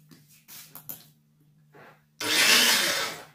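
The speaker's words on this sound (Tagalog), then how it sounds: "Hirapan si blender." A few short rubbing and scraping knocks, then a loud, dense grinding roar as a blender motor kicks in and runs steadily, grinding onion, ginger and fish sauce into a paste.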